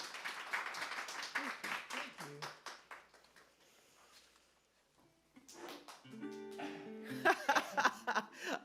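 Audience applause after a song at an artist showcase, bursts of clapping that fade to near silence, then a voice speaks and laughter and clapping return.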